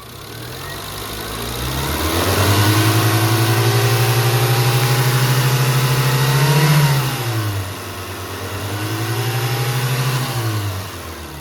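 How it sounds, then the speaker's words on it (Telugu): Petrol engine of a used Tata Indica DLSI car revving twice, rising from idle to a sustained high rev and dropping back, then revving again, loud and close with no talk. "ఇంజన్ యొక్క సౌండ్ అయితే మీరు వినొచ్చు. ఎక్సలరేటర్ ఇప్పిస్తే మీరు చూసుకోవచ్చు."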